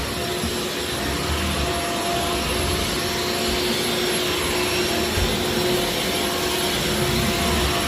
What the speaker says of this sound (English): So I always like to vacuum first.